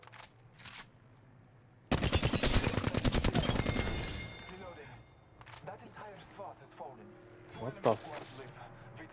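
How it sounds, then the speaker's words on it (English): Video game gunfire: a dense, loud automatic burst of rapid shots lasting about two seconds, followed by scattered clinks and game sounds while players talk. "Someone shooting at you?"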